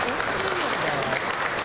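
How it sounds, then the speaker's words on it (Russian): Members of the academic council at Kazan Federal University applaud in the university's imperial hall to greet the new rector. The clapping is brief and steady, with some voice mixed in. "Нового ректора члены ученого совета встречают аплодисментами"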